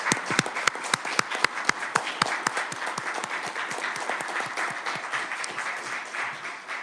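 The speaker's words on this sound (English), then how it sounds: "We got to give you guys a round of applause." Students standing at a state House Committee on Education hearing receive a round of applause in a hearing room. Sharp individual claps at the start settle into a continuous, moderately loud patter of many hands.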